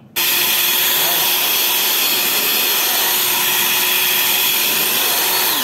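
An electric blower roars steadily and loudly as it blasts dust out of a Broadway VX20 power amplifier, a continuous whooshing rush that starts abruptly and holds at full strength without pause.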